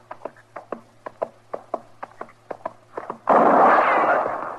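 Gunfire from a 1954 Gunsmoke radio western drama: a rapid string of a dozen or more sharp shots, loud and close, then a burst of broad, roaring noise.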